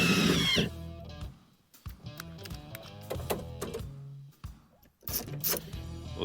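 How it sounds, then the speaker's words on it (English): A power drill whirs in short bursts with gaps between, driving the window mechanism of a 1988 K5 Blazer tailgate, with mechanical clicks and grinding close by. "You can use a drill and operate the window, like so"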